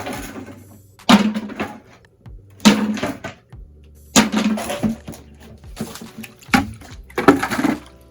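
Water carrying goldfish is emptied into a bucket in several separate splashing pours, each a short burst of sloshing and gurgling with quiet pauses and a few thunks between them.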